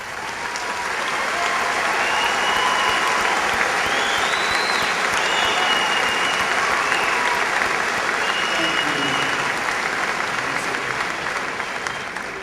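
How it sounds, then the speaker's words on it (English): A graduation audience gives honor students a long, full round of applause, dense steady clapping that fills the room evenly from start to finish with no talk over it. "let's give them a good round of applause for their efforts."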